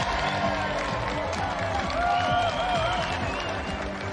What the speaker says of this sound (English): let's have another round of applause for Ben McCluskey and our special guest, Ton